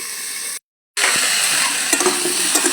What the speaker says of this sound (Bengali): তরকারিটাকে আমি এক মিনিট হয়ে গেছে ভেজে নিয়েছিলাম